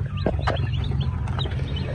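Chickens with a brood of newly hatched chicks, including one small black chick, make soft, faint chirps and peeps over a steady low hum, with no one talking.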